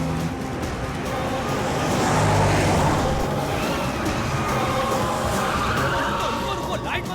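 A car speeding through a chase scene in a Hindi-dubbed South Indian crime comedy film, a steady engine roar with tire noise, continuous and fairly loud, with voices speaking over it.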